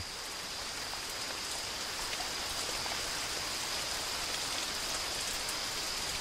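Steady heavy rain pours down continuously, a dense hiss of drops on surfaces with no voices.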